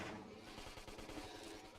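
Rapid gunfire in the video game Xenoblade Chronicles X, a quiet, fast rhythmic burst of repeated shots lasting under two seconds.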